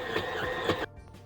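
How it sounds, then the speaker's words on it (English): A stand mixer kneads focaccia dough with a close, steady motor whir and rhythmic thumping, then cuts off abruptly, leaving a quiet room. "now I am just going to let my stand mixer knead this for about 2 minutes"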